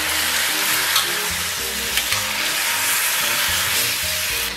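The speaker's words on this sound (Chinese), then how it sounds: "咱们给里边放点葱姜蒜干辣椒， 煎炒差不多" Scallion, ginger, garlic and dried chili stir-fried in a wok with pork tails, sizzling loudly and steadily throughout with scraping stir strokes and a few sharp clinks, no talk.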